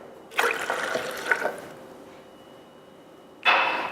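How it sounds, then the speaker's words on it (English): Water poured from a cup into a blender, one splashing pour lasting over a second, then quiet, and a second short burst of pouring or splashing near the end, close and fairly soft. "Then I'm going to add the water."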